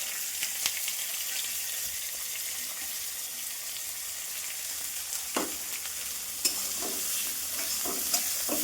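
Chopped vegetables and onion fry in a pan with a soft, steady sizzle, punctuated by a few sharp stirring clinks and scrapes toward the end, with no voices.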